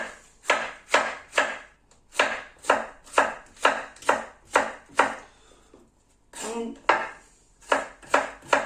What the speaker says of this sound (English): so let's just slice those through quick